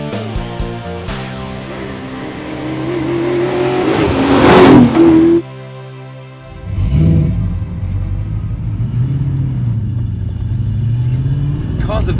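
A British Leyland Vitesse touring car engine revs hard close by, climbing in pitch to a loud peak, then cutting off sharply before rising again into lower, throatier revs.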